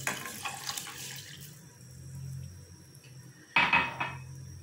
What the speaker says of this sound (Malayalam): അപ്പം ഞാൻ രണ്ട് ഗ്ലാസ് വെള്ളം വെക്കുന്നുണ്ട്